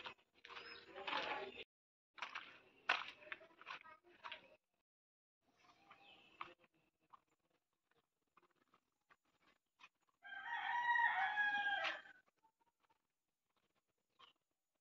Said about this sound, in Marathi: गावठी कोंबडी